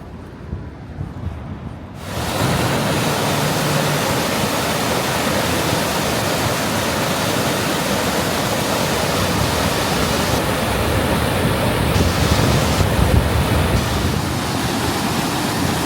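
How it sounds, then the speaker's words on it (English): Rough, violent water rushing through a park in Philadelphia, a loud broadband roar that starts abruptly after two seconds and holds steady and close with no talking. "the water is super violent today"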